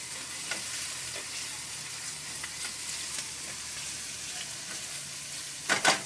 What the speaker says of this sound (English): if you're going to use onions, just kind of let them get kind of cooked and soft